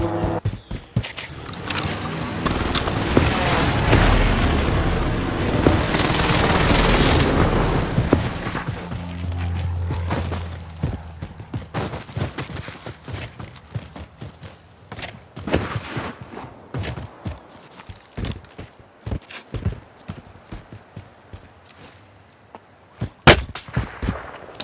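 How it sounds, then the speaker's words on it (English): Precision airstrike explosions in Call of Duty Warzone, a loud rolling barrage of booms in the first half giving way to scattered sharp gunshots and footsteps. "Precision airstrike."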